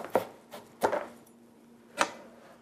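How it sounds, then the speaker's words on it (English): Knife cutting through a watermelon half on a board: three firm, separate chops with crisp thuds, close and clear against a quiet room. "Turn it on its side here. Slice it in half again."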